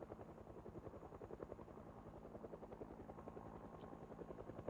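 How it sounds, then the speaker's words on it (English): A helicopter circles overhead in Project Zomboid, rotor blades thudding in a fast, steady, fairly quiet beat that continues without pause. "Get to the chopper!"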